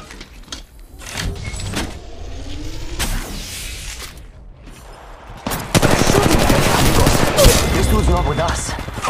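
Bursts of gunfire from the Apex Legends Mobile battle-royale game, scattered shots at first then dense rapid automatic fire building loud and continuous in the second half, with clatter and game effects.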